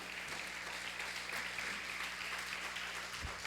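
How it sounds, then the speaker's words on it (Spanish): A church congregation claps continuously, a dense, steady patter of applause heard from some distance, fairly soft overall. "Vamos a darle un aplauso al Señor."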